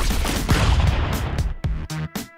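Gunfire in the game Stick Fight, a loud dense volley of shots that then breaks into several separate sharp reports, close and alone.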